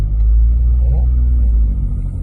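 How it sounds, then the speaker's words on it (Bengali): A car engine idles with a low, steady rumble, rising slightly as the accelerator is pressed gently during a driving lesson, with no talk over it. "অ্যাক্সেলারেটর একটু ধরো।"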